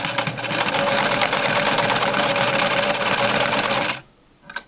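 Singer Fashion Mate 360 sewing machine running a zigzag stitch, a loud, close, continuous mechanical whirr with rapid rattling that stops abruptly near the end, followed by a brief quiet click.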